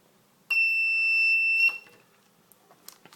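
A transistor-driven buzzer on a small circuit with an LED gives one loud, steady high-pitched tone lasting just over a second, then cuts off, leaving faint clicks and quiet.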